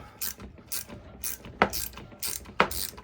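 A ratchet wrench turns a tight bolt into the kingpin of a Case IH 275 compact tractor, making rhythmic clicking strokes about twice a second with two sharper clunks, loud and close, with no talk.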